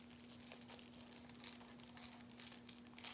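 Cut-out autumn leaf pattern stencil being peeled up off a surface, giving a soft, continuous crinkling and tearing texture with a few brief louder crackles, close and fairly quiet, with no talking.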